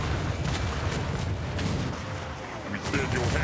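Cannons fire aboard a pirate ship in a roleplay video game, a dense, sustained barrage of booming blasts with crackling gunfire layered throughout, loud and continuous, with voices mixed in.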